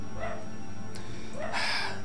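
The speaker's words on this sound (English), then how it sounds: "One is you can now hear that dog." Dog barking twice nearby, picked up on a gaming microphone, each bark short and fairly loud over a steady background hum.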